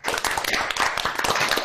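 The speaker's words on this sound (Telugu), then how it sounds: "క్లాప్స్" Group of children clapping together at a club session, a dense, steady burst of hand claps filling the short moment without pause.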